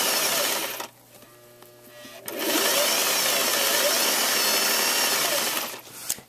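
A sewing machine stitches a sleeve into knit fabric, giving a steady, close mechanical whir that runs briefly, pauses, then runs again in a long continuous burst.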